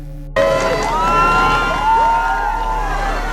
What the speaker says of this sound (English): and the crowd cheered.